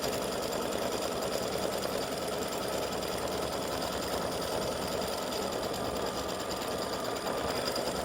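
An embroidery sewing machine stitching an earring and pendant piece, a fast, even mechanical chatter running continuously and loud for the whole stretch, with no voices over it.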